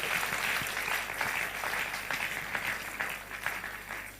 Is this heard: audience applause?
yes